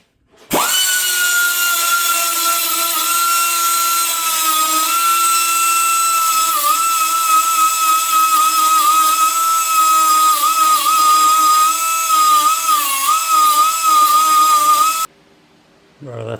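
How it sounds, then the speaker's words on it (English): Angle grinder dressing back welds on the cowl panel of an HQ GTS coupe, a steady high whine held close and loud for about fourteen seconds before cutting off abruptly. "it's all ready to grind back, so I'll start grinding"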